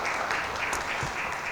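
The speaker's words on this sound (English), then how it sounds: "give our panellists a round of applause, please" Steady round of applause for panellists at an immigration exhibition event, an even wash of clapping from a seated audience with no voices over it.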